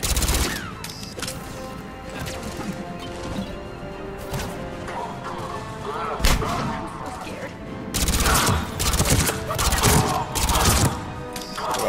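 Automated turrets firing in Mass Effect 3, rattling bursts of shots with crashing impacts amid combat noise, loudest in heavy volleys near the end.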